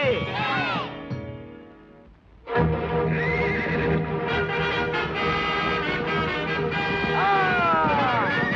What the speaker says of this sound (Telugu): ఇదెట్ట గుర్రం వెనక్కు పోతుందో.